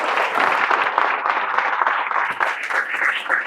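A crowd at a Ram Mandir consecration celebration claps hard and continuously, a dense, even wash of applause that holds for a few seconds without a break.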